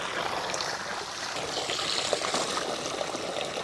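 Water trickles and pours steadily from an opened lid on an outdoor water outlet, a continuous, fairly close splashing flow with no voices over it.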